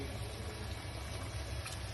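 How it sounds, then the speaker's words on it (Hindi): Water poured into a cooking pan of potatoes and eggs, a steady, even rush of liquid lasting about two seconds at close range, with no talking. "अब इसमें थोड़ा सा पानी ऐड कर देंगे"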